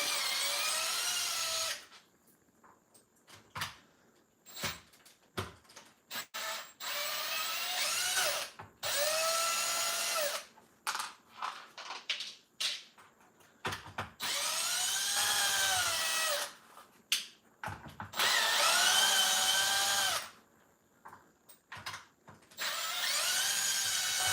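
A power drill driver backing screws out of the plastic chassis of a Traxxas XRT RC car, with repeated loud whirring bursts of varying pitch separated by short pauses, close up and with no talking.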